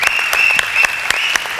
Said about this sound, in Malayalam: ഒരു ഉഗ്രം കൈയടി കൊടുക്കും.